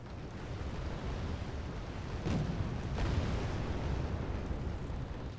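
An M1 Abrams tank trades fire with enemy vehicles in Wargame: Airland Battle. Two muffled cannon shots thud a moment apart over a dense, continuous rumble of battlefield noise, heard from a distance.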